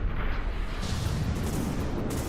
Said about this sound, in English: The Cram cannons, they're trying as hard as they can